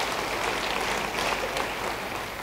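Church congregation breaks into sustained applause, a thick continuous patter of many hands filling the room for a couple of seconds.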